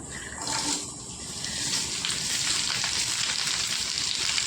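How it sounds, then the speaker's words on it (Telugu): Dried red chilies and urad dal sizzle in hot oil in a pan for a Telugu wood apple chutney, a continuous loud crackling fry that swells after the first second, with no talk. "ఇప్పుడైతే ఎండిమిరపకాయలు వేసుకుందాం"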